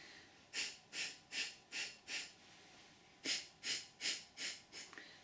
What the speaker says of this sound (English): Close one nostril and exhale through the opposite.